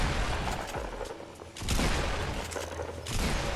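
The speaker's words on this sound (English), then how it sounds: "Dude, shotgun." Shotgun blasts in Fortnite gameplay, a few heavy booming shots amid continuous battle noise, loud and close with no talking.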